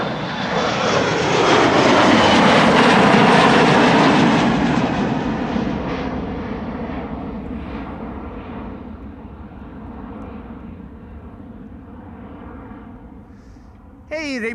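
KLM jet airliner taxiing at Amsterdam Schiphol for departure to Düsseldorf, its engine whine swelling loud and close, then slowly fading into a lower distant rumble, with a sharp clatter at the very end.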